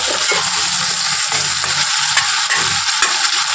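Onions, whole garlic cloves and spices fry loudly in a pan, a constant close sizzle with repeated scraping strokes as the mixture is stirred, no voices over it.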